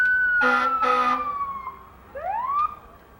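Fire engine siren wailing at a St. Petersburg parade, a steady falling tone with two bursts of horn blasts, then a short rising whoop, loud and close with no talk.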